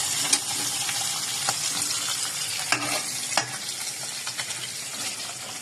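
Local jiol fish simmering with mankochu in a pot, giving a steady, close sizzle and bubble with a few sharp clinks of stirring scattered throughout.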